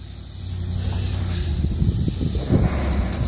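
A Ford F-250 pickup truck's engine rumbles and revs under load on an old asphalt and concrete driveway during demolition, with a steady low drone and scattered knocks and scraping bursts.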